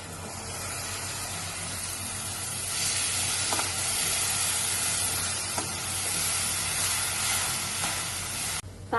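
Tomato puree for an egg curry sizzles and fries steadily in a hot pan, a dense continuous hiss that swells slightly midway, with occasional stirring clinks and no talking.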